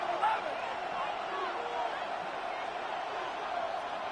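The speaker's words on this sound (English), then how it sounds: "And this crowd making it hard to hear." Stadium crowd noise from the Madden 26 football video game, a steady loud roar filling the whole stretch with scattered cheers and whoops rising out of it, while a commentator talks over it.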